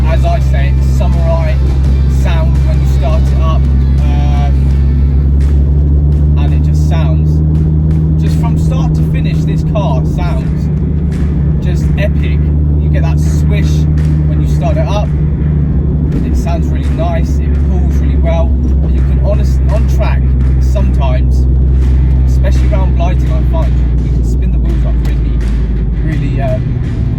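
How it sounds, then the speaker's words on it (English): Uprated Mini Cooper R53 track-spec engine idling steadily with a deep, constant drone, loud and close throughout, with sharp mechanical ticks and clatter over the hum. "it's got that nice, as I say, samurai sound when you start it up."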